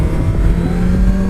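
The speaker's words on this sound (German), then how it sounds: "So, ich fahre jetzt eine kleine Runde mit der R6 von der Dini." A Yamaha R6 motorcycle engine under way, a loud, steady close drone with a strong low hum and no break across a short stretch.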